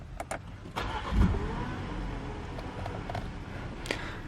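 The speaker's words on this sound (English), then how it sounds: "Put your foot on the brake and press the left dash mounted start button to go." A 2017 Audi Q7 S-Line 40TFSI is started by its push button: a few clicks, then the engine catches with a brief rise and settles into a smooth, quiet idle.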